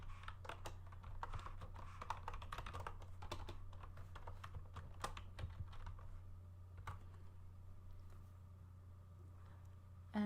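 Keys clatter on a computer keyboard in short irregular bursts of typing, faint and close over a low steady hum, with brief pauses between runs of keystrokes.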